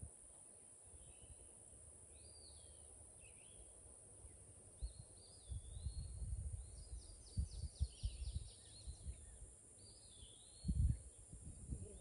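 Birds chirp faintly on a farm, with scattered high calls over a quiet outdoor background and a few low thumps and rustles nearby; no voices.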